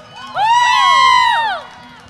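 A church congregation at an El Shaddai chapter gathering in Taiwan lets out a loud, sustained shout that swells and falls over about a second, ringing above a low murmur of background noise.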